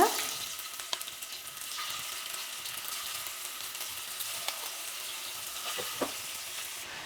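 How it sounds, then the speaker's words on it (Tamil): Fish pieces fry in hot oil in a kadai, giving a constant crackling sizzle at moderate closeness with small pops scattered through it. No voices are heard. "நம்ம எடுத்து வச்சுருக்க மீன் பீஸ் எல்லாம் ஒவ்வொன்றா இந்த மாதிரி ஆட் பண்ணிக்கோங்க"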